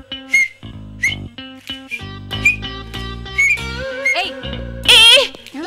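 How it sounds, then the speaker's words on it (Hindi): Person whistling short rising tones in a comedy scene, several brief chirpy whistles spaced between other sounds, ending with a louder squeaky burst; a musical background runs underneath. "अब तुम सीटी बजाना सीखो।"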